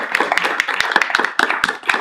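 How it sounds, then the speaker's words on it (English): A room of people claps for redevelopment agency members at a public meeting, a steady patter of many hands lasting about two seconds with no speech over it. "let's just give them a round of applause too"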